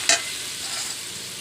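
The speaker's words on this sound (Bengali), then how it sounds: "তো মশলাটা আমি একটু ভেজে নেব।" Spice paste for a katla fish curry frying in a pan makes a brief sharp clatter, then a steady hiss of sizzling.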